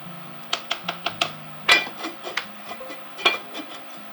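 A cooking pot of white chicken chili is covered with its lid, giving a quick series of close, light metallic clinks and taps followed by a few scattered clatters.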